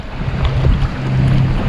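Wind buffets the microphone beside a river, a loud, rumbling low roar with gusty swells and a steady low hum running through it, and nobody speaking.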